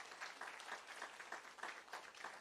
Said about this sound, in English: Would you give the panelists a huge round of applause?